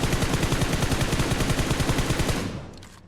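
Rapid automatic gunfire in the mobile battle royale game PUBG Mobile, a dense rhythmic burst of close, loud shots that cuts off abruptly near the end.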